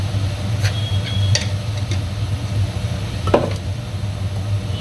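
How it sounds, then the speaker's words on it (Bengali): Masala spices with salt, turmeric and sugar sautéing in oil in a pan, a steady close sizzle with occasional light clicks of a spatula stirring. "এই দিয়ে মশলাটা একটু কষিয়ে দিই"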